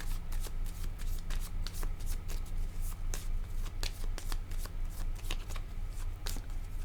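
Tarot cards being shuffled by hand in rapid repeated riffles and soft slaps, close and steady throughout, over a low constant background hum with no speech.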